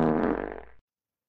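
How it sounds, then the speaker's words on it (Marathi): A loud, close fart rumbles out in a single sustained burst of just under a second, then cuts off abruptly into silence. "एवढ्या जोरात कोणा पाद मारला रे?"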